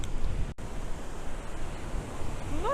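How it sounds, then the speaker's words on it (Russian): Strong ocean waves wash in at Las Americas beach, Tenerife, as a steady, moderately quiet surf roar mixed with a little wind. "я бы сказала, даже при таких сильных волнах."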